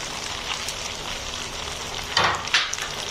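Capsicum and tomatoes hitting a hot pan and sizzling steadily, with a couple of louder hissing bursts near the end as the vegetables are stirred.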